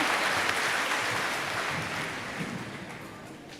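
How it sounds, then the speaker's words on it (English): Audience applause, a dense steady clatter of many hands clapping that slowly fades toward the end. "Let's give them all a big round of applause."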